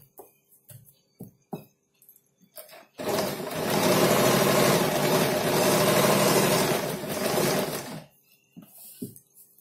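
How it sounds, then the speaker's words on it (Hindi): A sewing machine runs steadily for about five seconds while stitching the neckline of a kurti, loud and close, with brief clicks and handling noises before and after. "मैं भी मशीन बहुत स्लो चलाती हूँ"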